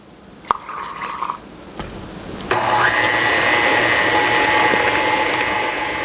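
An electric hand mixer beats sweet potato into pound cake batter, starting with a few clicks and brief whirs, then settling into a loud, steady motor whine that holds to the end.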